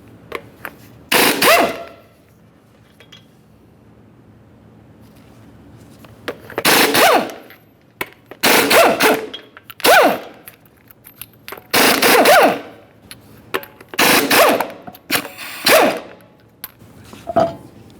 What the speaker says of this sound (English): remove all 5 of your 22mm lug nuts and then the wheel